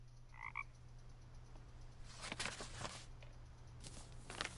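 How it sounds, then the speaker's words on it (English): A frog croaks in the video game What Remains of Edith Finch, a short double call early on over a steady low hum and soft ambient game noise, followed by faint footstep-like patter. "I thought I found that murderous frog earlier."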